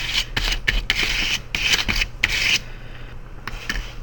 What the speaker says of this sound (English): I'm just going to scrape some texture lines in my sky